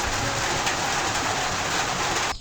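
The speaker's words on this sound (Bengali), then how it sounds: "এই দেখো কত বৃষ্টি পড়ছে" Heavy rain falling, a loud, dense, steady hiss that fills the whole stretch with no voices and stops abruptly at the end.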